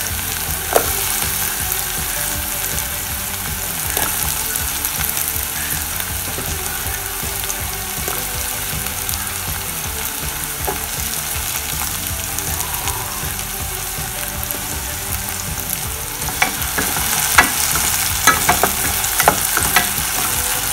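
Chicken and tomatoes frying for pineapple chicken, a loud, dense, continuous sizzle with occasional stirring clinks near the end, close up and without talk.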